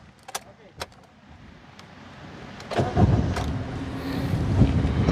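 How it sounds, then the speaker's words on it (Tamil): A Maruti Suzuki Baleno with a K-series engine cranks and catches after a few faint clicks and key jingles, then settles into a low, steady idle close by. "ஓகே, வண்டியை ஸ்டார்ட் பண்ணிட்டேன்."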